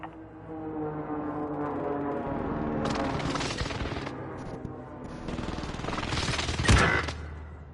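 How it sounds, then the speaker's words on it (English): Airstrike explosions and gunfire in Call of Duty Warzone Pacific: a steady low hum under rattling volleys that swell into two dense bursts, the later one peaking with a sharp heavy boom. "Allied precision airstrike incoming."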